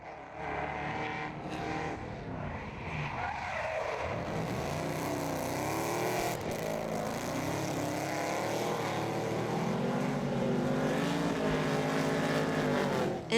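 Drift cars, including a BMW, at a French drift championship: a continuous roar of revving engines that rises and falls in pitch, fairly distant and steady throughout.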